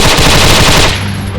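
Loud, close machine gun fire in the military video game Arma 3, a fast continuous burst of shots that tapers off into a ringing tail.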